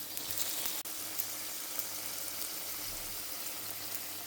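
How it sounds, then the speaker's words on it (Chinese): Thin Thai banana pancakes frying in very hot boiling oil, a quiet, steady hiss and sizzle that continues evenly, with one sharp click near the start. "接着把香蕉飞饼放入沸腾的油锅内"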